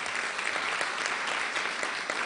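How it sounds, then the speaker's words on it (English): Steady, dense applause from a luncheon audience at the National Press Club after a talk by the Los Angeles mayor, loud and continuous throughout. "How about a round of applause for our speaker today?"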